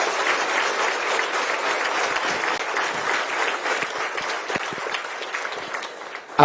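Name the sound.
audience applause in church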